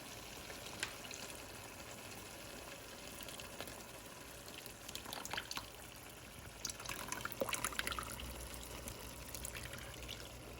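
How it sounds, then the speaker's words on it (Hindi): Tamarind juice, strained without pulp, pours into a pot of Hyderabadi bagara baingan (eggplant curry), a soft continuous liquid trickle and splash that swells briefly near the end, close and alone. "अब इसमें मैं इमली का पानी डाल रही हूँ।"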